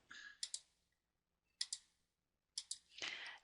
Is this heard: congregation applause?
no